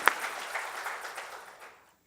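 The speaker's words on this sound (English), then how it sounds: "let us give her a round of applause" A round of applause from an audience at a Caterpillar rededication ceremony, opening with one sharp clap and then a moderate, even patter that thins out and fades to near silence.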